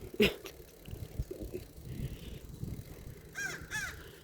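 Crows cawing outdoors, a short loud burst near the start followed by two more distant, harsh calls toward the end over a noisy background rumble.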